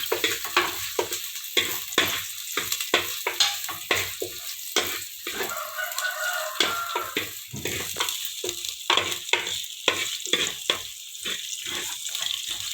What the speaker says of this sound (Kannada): ಹಸಿಮೆಣಸಿನಕಾಯಿ ಮತ್ತು ಶುಂಠಿ, ಅದನ್ನು ಕೂಡ ಏನು ಮಾಡಿ ಅದಕ್ಕೆ ಹಾಕಿ ಫ್ರೈ ಮಾಡಬೇಕು